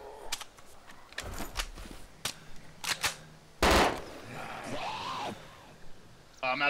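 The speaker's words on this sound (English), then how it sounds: "Start shooting zombies, I got some." Gunfire from shooting zombies in the Breaking Point video game, with several sharp separate shots spread across the clip, one louder burst near the middle, and people yelling in the background.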